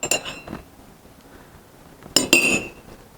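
Plaster and water being stirred for a fossil activity, a few sharp close clinks of a utensil against a container, two at the start and a louder cluster near the end, quiet between, no talk.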